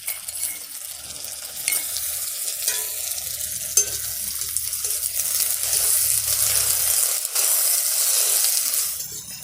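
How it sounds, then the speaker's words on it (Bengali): Ginger and cumin paste stirred into fried chopped onions in a pan, a continuous close sizzle with soft scraping stirs and a couple of sharper clinks. "মশলাগুলো একটু নেড়ে নিয়েছি"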